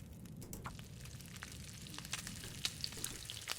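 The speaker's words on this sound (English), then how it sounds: "Let's cook up the venison." Venison cooking over a fire in the survival game The Long Dark, a soft steady sizzle and crackle with occasional small pops, quiet and continuous with no talking.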